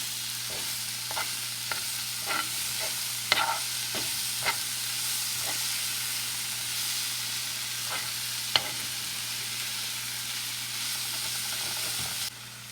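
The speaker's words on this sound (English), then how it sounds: "Add chopped onions and fry for 2 minutes." Chopped onions sizzle steadily in a hot pan, a constant frying hiss broken by occasional scrapes and clicks of stirring.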